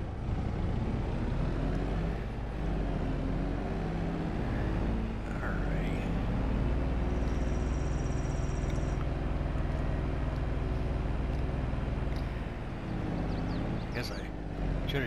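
A Gator utility vehicle drives in the farming video game Farming Simulator 22, giving a steady, continuous engine hum with tonal whine throughout while someone talks over it.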